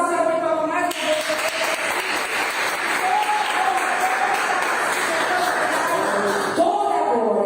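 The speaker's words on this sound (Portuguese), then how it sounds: "Vamos dar uma salva de palmas mais uma vez" A congregation breaks into steady, full applause during a morning church message, dense clapping sustained for several seconds while a voice or music carries on alongside it.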